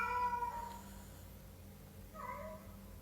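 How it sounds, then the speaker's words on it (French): A hungry indoor cat meows twice for food, a soft first call and then a second, shorter one, both fairly faint over a low hum. "Et il pète un câble, genre il miaule jusqu'à ce que je cède."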